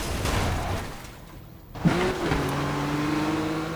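A car in NFS Rivals races at high speed, its engine roaring loudly and steadily, dipping briefly before a gear change sends the revs climbing again with a rising whine.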